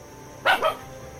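A dog gives two quick barks close by in Pakistan, short and sharp against a quiet background.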